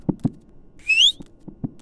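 A single short rising whistle from a person sounds over a few soft knocks during a scary online game session, fairly clear and close.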